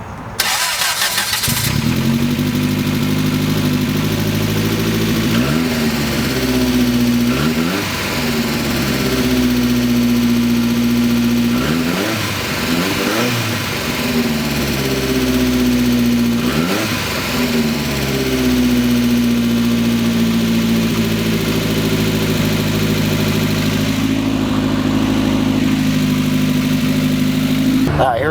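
A 1988 Lotus Esprit Turbo Commemorative Edition engine drones loudly and steadily while driving, its pitch repeatedly climbing through the gears and dipping at each shift, with a sharp start right at the beginning.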